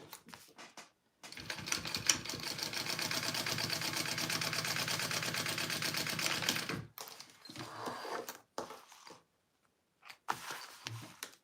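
A sewing machine stitches a Zynah garment from Kaur Threads in one steady run of rapid close needle clatter lasting about five seconds, then stops, followed by a few short bursts and handling noises.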